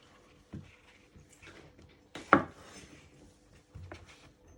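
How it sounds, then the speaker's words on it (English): A kitchen knife cuts mushrooms into quarters on a board, giving a few scattered dull chops with one sharper, louder cut in the middle, close by and with no talking. "You just want to chop them into 4."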